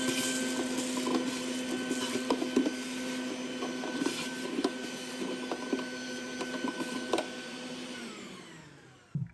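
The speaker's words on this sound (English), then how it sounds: "Might as well vacuum that out while we got this open." A shop vacuum runs steadily inside the open airbox of a 1978 Suzuki DR370 motorcycle that sat over 25 years, clearing out debris left by a chipmunk, with scattered clicks and knocks before the motor winds down near the end.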